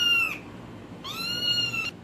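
A cat meows twice, a short call followed by a longer, drawn-out one, close and clear with no other sounds.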